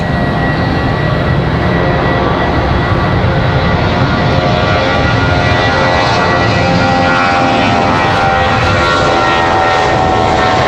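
A departing airplane at Raleigh-Durham airport roars loudly and steadily as it takes off, its broad engine rumble filling the air without a break and no voices over it.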